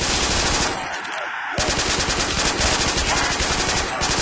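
Rapid P90 submachine gun bursts in a Call of Duty custom zombies game, a loud, dense, near stream of shots with a brief pause before firing resumes and continues to the end.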